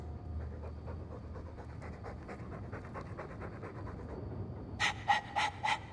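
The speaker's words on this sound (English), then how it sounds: "All that noisy dog breath, day in, day out, make him stop." Rhythmic dog panting in the video game Dragon Age 2, quick breathy huffs repeating steadily, with a few sharper bursts near the end over a low background rumble.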